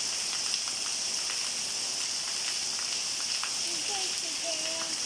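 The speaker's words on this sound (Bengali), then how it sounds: "এই সকাল ধরে বৃষ্টি, এখন পর্যন্ত বৃষ্টি।" Heavy morning rain falling steadily as a dense, continuous hiss with scattered drops, and faint voices or birds in the background.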